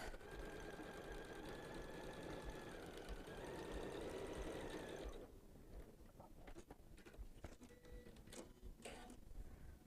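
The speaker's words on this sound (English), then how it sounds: "I place them right sides together, and we're just going to sew down this edge" A sewing machine stitches down a fabric edge, running in a fast steady mechanical whir for about five seconds, then stopping, followed by quieter handling clicks and taps.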